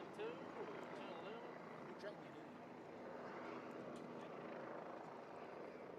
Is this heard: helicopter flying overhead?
yes